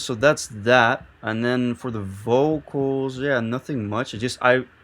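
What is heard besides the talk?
None of the usual background noises is heard.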